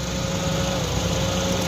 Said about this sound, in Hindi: अभी मैंने इसे ग्राउंड किया है तो फ़ैन इसका ऑन हो गया है।